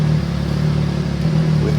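A 2015 MV Agusta Brutale 800 motorcycle engine idles steadily with a low, even drone and a slight mechanical clatter, close and continuous, with no speech.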